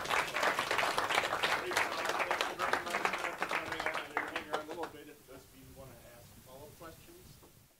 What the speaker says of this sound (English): All right, applause.